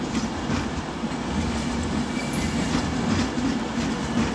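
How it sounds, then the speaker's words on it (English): A Pendolino train arriving at London Euston, a loud, steady rumble of rolling wagons with rhythmic clickety-clack from the wheels and a faint squeal, heard close on the platform. "Okay, we've got Pendolino coming in."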